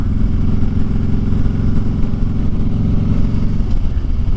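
A Harley-Davidson motorcycle engine at highway speed, heard loud and close as a steady deep rumble and throb with a rough mechanical clatter, holding constant throughout without a break.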